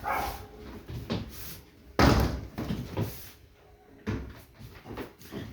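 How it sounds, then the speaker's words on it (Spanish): A door is pushed shut with a sharp thud, set among other soft knocks and handling sounds in a quiet indoor room while a neighbor's poodle barks faintly nearby. "Vamos a cerrar un poco la puerta."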